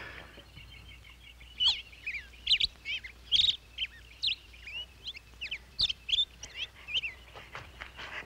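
A person whistles bird calls, a voice imitating chirps and warbles in short bursts, fairly close and alone over a quiet background.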